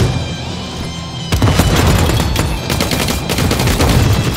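Gunfire and a grenade blast from the sci-fi shooter game The Cycle: quiet at first, then a sudden loud boom followed by dense, rapid bursts of automatic fire that continue to the end.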